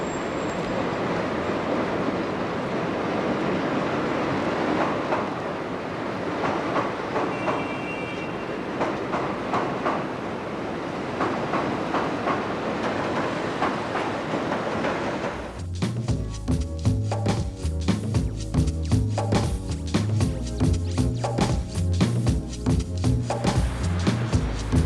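A CTA L rapid transit train crosses a bridge, its steady rolling rumble giving way to loud, rhythmic clickety-clack from wheels on rail joints that grows dense and close as it passes, with no voices.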